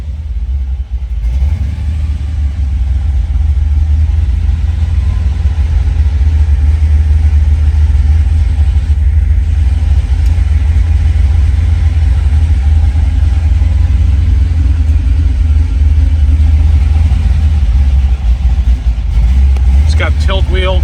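A 1969 Chevrolet C10 pickup's engine idles with a loud, steady low rumble throughout, close and constant, with some faint handling noises over it.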